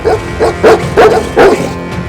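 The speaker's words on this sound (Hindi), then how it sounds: "जहां 2 कुत्तों ने घर के बाहर निकले बच्चे पर हमला कर दिया।" Two stray dogs attack a child outside a house in Jodhpur, barking loudly and close by in five rapid, evenly spaced barks, each sharp and harsh, with nothing else heard.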